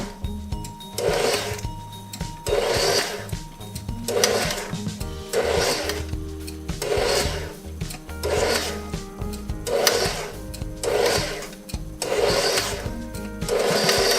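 An electric mixer beats thick chocolate rum cake batter in short on-off pulses, about nine whirring bursts at a regular pace with brief pauses between them, heard up close without speech.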